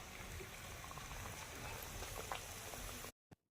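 Pumpkin fritters (kumror beguni) frying in hot oil, a continuous close crackling sizzle that cuts off abruptly near the end, followed by a single short knock.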